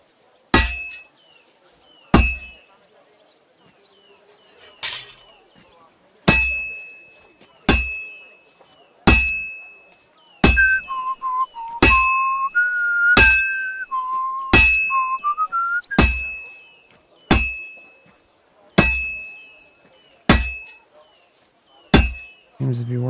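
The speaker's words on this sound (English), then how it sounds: "bang the hammer quicker." A blacksmith's hammer rings sharply on metal at a forge in the video game Kingdom Come Deliverance 2, striking about a dozen times at an uneven pace, each clang decaying under a whistled tune in the middle stretch.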